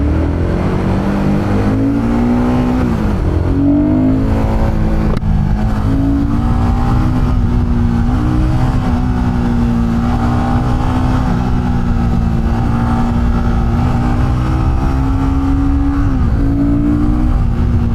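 A 40-horsepower Royal Enfield Guerrilla 450 motorcycle engine revs up and down repeatedly, close and loud, its pitch rising and falling in steady waves with no talking.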